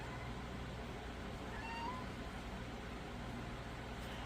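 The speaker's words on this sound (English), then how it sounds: "She's usually not a vocal cat at all." A domestic cat in a home with three cats gives a single faint meow partway through, rising briefly over steady low room hum.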